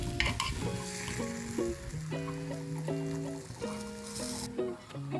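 Vegetable appam frying in a pan as the pieces are flipped, a close, steady sizzle with soft scraping, and sustained tonal music playing throughout.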